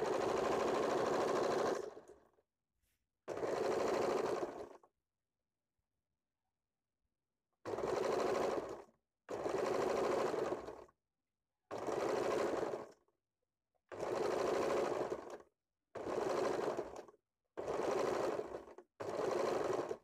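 A sewing machine stitches the sleeve fabric of a blouse in nine loud, close bursts of rapid mechanical whirring, each lasting one to two seconds and separated by short silent pauses.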